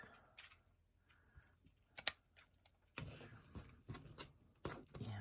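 Scissors snip away the excess raffia on a handmade Brigid doll, giving a few sharp close clicks and cuts among quiet rustling of the straw, loudest toward the end.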